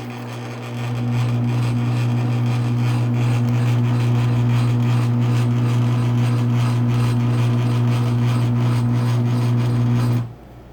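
A Raynor 270-7 garage door opener runs off its rail, giving a steady loud motor hum with a rasping mechanical buzz that holds for about ten seconds before cutting off abruptly.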